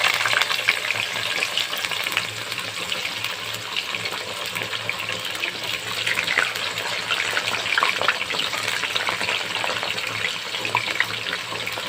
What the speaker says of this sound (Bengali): এবার আলুগুলি ভেজে নিচ্ছি